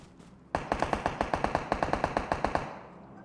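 Video game gunfire fires off a rapid, rhythmic burst of about a dozen sharp shots, moderately loud, ending with a short decaying tail.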